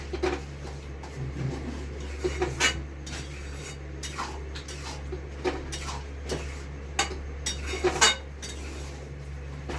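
Fish head and mung dal mixture with turmeric and chili powder being stirred in a pot, with irregular metallic clinks and scrapes of a utensil over a steady low background hum.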